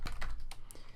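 Keystrokes on a computer keyboard while entering a search on a Windows PC, a few quick clicks in about a second, close and fairly soft with no voice.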